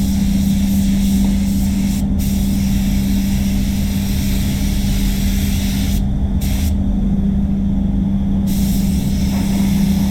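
A spray gun lays a candy coat on a Mazda CX-5 during a respray, giving a steady, loud hissing rush over a constant low compressor-like hum, with a few brief breaks in the spray.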